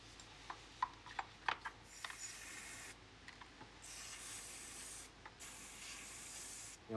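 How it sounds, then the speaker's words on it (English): Cleaner is sprayed in short hissing bursts onto the cylinder head of a Paslode IM50S nailer during a service. The bursts come close and fairly loud, mixed with light tapping and rubbing sounds. "So give it a good liberal spray to begin with"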